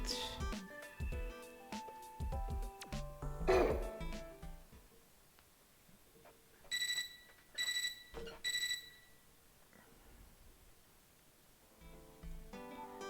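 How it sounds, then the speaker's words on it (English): In the Fate/Extra CCC video game, an alarm-clock-like electronic ringing sounds in three short, bright bursts, following a stretch of game music and chimes. "I woke up to a ringing sound like an alarm clock."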